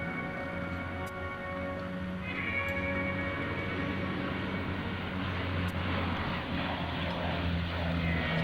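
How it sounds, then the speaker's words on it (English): A Lockheed P-3C Orion flies a demonstration at the 2003 Dayton airshow, banking steeply through a tight turn. Its engines make a continuous, strong droning hum with steady tonal whine that swells slightly partway through, and no voices are heard. "as he rolls the aircraft to a high angle of bank for a minimum radius 360-degree turn"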